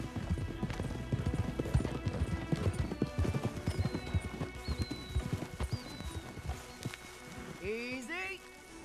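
Horses from the Red Dead Redemption 2 game clop along in a rapid, busy hoof rhythm over faint rain, ending with a horse's whinny near the close, all fairly quiet.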